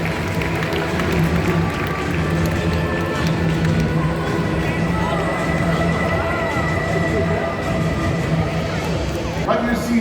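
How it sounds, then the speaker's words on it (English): An audience at an outdoor raptor bird show at Bird Paradise Singapore claps steadily for about ten seconds, a dense continuous patter of many hands heard from within the crowd. "let's give a big round of applause out to Honda"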